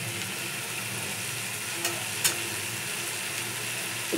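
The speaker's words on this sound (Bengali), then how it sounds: "হলুদটি ভালো করে নেড়ে নিলাম।" Jackfruit curry with turmeric sizzles steadily in a hot pan while it is stirred, a constant close frying hiss with a few soft scrapes of the spoon.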